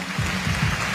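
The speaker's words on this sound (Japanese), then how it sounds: "10日さんにもう一度大きな拍手" Applause from a festival audience at a live radio-hosted music event in Japan, a steady dense wash of clapping filling the whole second at moderate loudness with no voices on top.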